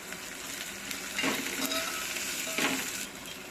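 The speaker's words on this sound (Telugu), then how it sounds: "పచ్చిమిర్చి, అల్లం దంచుకున్న పేస్ట్, కొంచెం ఇంగు వేసుకుంటున్నా" Green chilli, crushed ginger paste and asafoetida frying in a pan for Telangana-style majjiga charu, a steady close sizzle with a few brief bursts of stirring and clinks of a utensil against metal.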